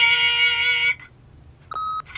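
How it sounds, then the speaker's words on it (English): An answering machine beep in The Wolf Among Us video game: a sustained electronic tone cuts off, then after a short pause a second bright, clean beep sounds, loud and close with no voices. "leave a message at the beep and we'll get back to you as soon as"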